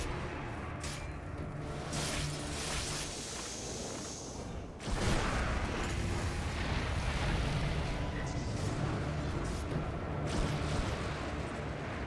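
Fire Remnant ability explosions in Dota 2 rumble through a dense stretch of game combat, with a sudden louder blast near the midpoint followed by sustained booming and crackling bursts.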